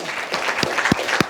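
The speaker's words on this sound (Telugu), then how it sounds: "మీకు మీరే చప్పట్లు కొట్టుకోవాలమ్మా" Audience applause at a gathering honouring learners of a free-training foundation, a brief burst of scattered, fairly close clapping with a few sharp individual claps standing out.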